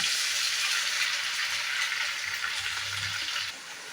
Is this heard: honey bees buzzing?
no